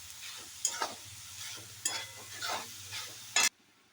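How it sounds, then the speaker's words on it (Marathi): Cluster beans (guar) are stirred and sautéed in a pan for a home-style vegetable dish, a soft background sizzle with a few distinct spatula scrapes, the last one sharp before the sound cuts off. "यात टाकायचा आहे गवा आणि छान परतून घ्यायचं"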